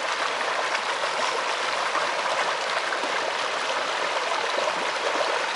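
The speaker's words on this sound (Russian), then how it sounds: "Это горная река." The Psezuapse, a mountain river near Lazarevskoye, rushing past in a steady, even hiss of flowing water, close and continuous with no voices.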